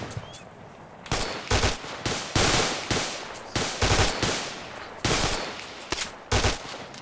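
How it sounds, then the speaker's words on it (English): Suppression gunfire in the Arma 2 military video game comes as repeated loud, close bursts of automatic fire in an irregular rhythm, each burst ringing off into a brief decaying tail. "Nothing more, nothing less than suppression fire."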